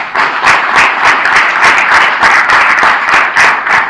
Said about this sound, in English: let us give a round of applause for all of us